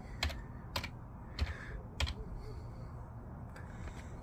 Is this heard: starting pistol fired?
no